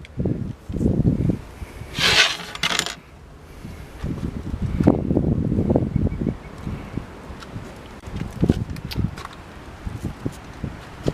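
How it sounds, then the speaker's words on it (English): Gusty wind buffets the microphone outdoors beside a camper van in low, rumbling bursts with a loud surge early on, steady blustery noise throughout and no voices. "Sorry for the wind, it is a little windy today."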